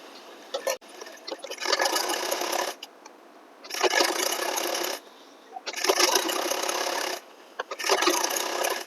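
Sewing machine stitching a lined blouse, running in four bursts of rapid mechanical whirring separated by short pauses, close and fairly loud, with no talk.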